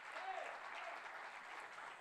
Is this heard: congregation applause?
yes